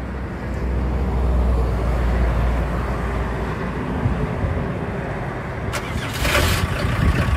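A vintage camper van's engine starts up and settles into a steady, loud idle rumble that runs throughout, with a brief rattling burst near the end, close by.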